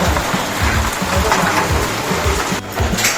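Downpour pounding a corrugated metal roof during a windy storm produces a loud, unbroken hiss with a brief lull near the end before it resumes.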